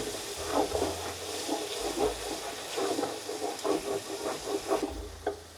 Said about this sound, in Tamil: அடுத்து புதினாவும் பச்சை மிளகாவும் போட்டாச்சு